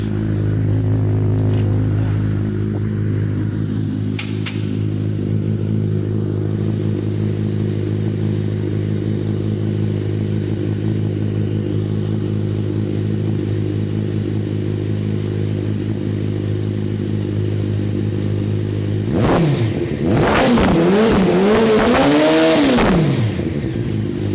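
A motorcycle engine idles steadily for a long stretch, then revs up and down a few times through an aftermarket exhaust silencer. Close and loud, no voices.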